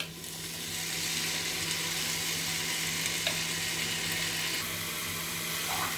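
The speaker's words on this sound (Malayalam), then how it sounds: "എണ്ണ തെളിയുന്നത് വരെ വഴറ്റാം" Ground green masala for Kashmiri green chicken curry sautéing in hot oil, a steady soft sizzle and frying hiss with faint stirring.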